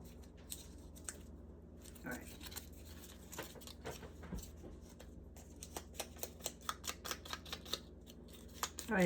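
Scissors snip through excess paper on a scripture scrapbooking page, a run of short crisp cuts picking up in a quickening rhythm near the end, close and quiet over faint room noise.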